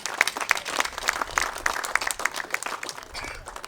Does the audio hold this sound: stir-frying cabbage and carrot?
no